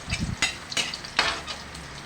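Chopped onion and garlic sauté in a hot pan for crispy kare-kare, giving a soft sizzle broken by a few sharp scraping stirs of a utensil, close and without talking.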